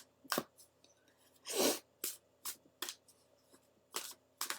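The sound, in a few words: shuffling oracle cards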